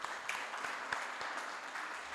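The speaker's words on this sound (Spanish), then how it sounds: "Un aplauso para nuestros amigos." Applause from an audience at a Venezuelan political event: a steady, moderately faint wash of clapping lasting the whole moment, with a few sharper individual claps standing out.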